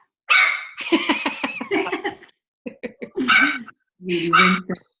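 A 9-week-old puppy gives several short, high yips and bark-like cries in quick bursts with gaps between them, loud and close, mixed with brief human vocal sounds.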